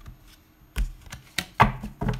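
Large tarot cards are shuffled by hand in a few separate bursts of crisp, clattering riffles and taps that come close and fairly loud, with short pauses between them.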